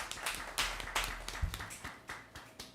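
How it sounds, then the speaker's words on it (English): An audience at an Arts in the Parlor event gives a round of applause: a quiet, thin patter of separate claps that keeps a loose, roughly regular beat. "let's give ourselves a round of applause for that"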